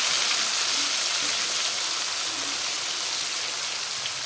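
Fish rubbed with salt and turmeric frying in hot oil in a karahi, a steady bright sizzling hiss close by with no talk.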